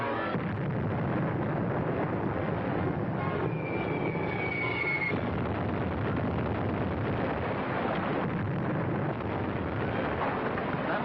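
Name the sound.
explosions in a radio drama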